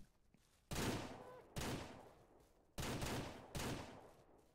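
Gunshots in the Ranch Simulator game, four loud, sharp blasts each trailing off into a short decay, spaced unevenly over a few seconds against a quiet background.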